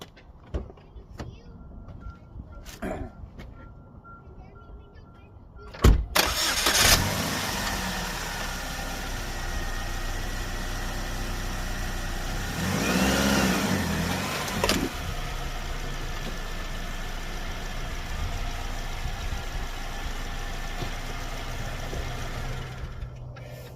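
A 2009 Chevy Cobalt with over 361,000 miles idles and then is driven off ramps after an oil change, a steady mid-level engine hum rising briefly as it rolls, with a door or window sound near the start.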